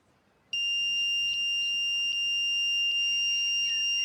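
A metal detector, set up to ground-balance near power lines, emits a steady loud high-pitched electronic tone that starts abruptly and holds, with faint clicks; no speech.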